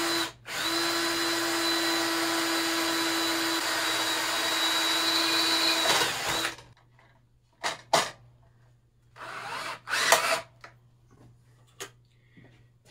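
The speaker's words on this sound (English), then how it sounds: "Now we grab our drill and set it up with an 1/8 inch drill bit" A power drill fitted with a 1/8 inch bit bores into an aluminum tool case, a loud steady whine for about six seconds, then several short separate bursts with quiet gaps between them.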